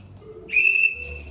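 A whistle is blown once on a stage during a theatre production, a bright steady tone lasting about a third of a second, fairly loud and close, with no talk around it.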